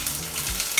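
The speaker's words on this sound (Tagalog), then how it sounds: "Siyempre, magigis na muna tayo." Onion sautés in a hot pan, giving a brief, close, steady sizzle with a light stir scraping through it.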